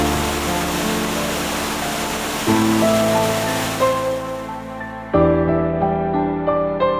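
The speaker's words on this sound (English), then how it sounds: "Huge roaring sound of the waterfall makes the place most interesting among" The Bhim Kund waterfall on the Boitaroni River in Keonjhar, Odisha, roars as a steady broadband wash, clear at first, then fading beneath loud tonal music that takes over the second half.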